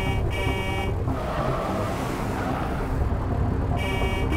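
A Gauss Hog vehicle drives in Halo 3 ODST, its engine a steady loud roar with rumbling road noise and a continuous whine, heard up close throughout.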